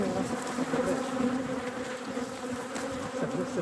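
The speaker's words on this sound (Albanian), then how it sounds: "sepse bletët një kanë letë të shqetësuar" Agitated honeybees buzz around an open hive during queen replacement, a dense, close, continuous drone with no voices.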